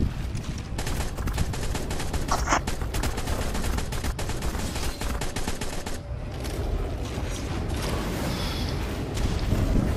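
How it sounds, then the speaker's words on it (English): Sustained gunfire from turret guns in the ARK survival video game, a dense continuous barrage with wind-like roar and no pauses, loud throughout. "Keep putting fire on it, even if it flies away. That's what our guns are for."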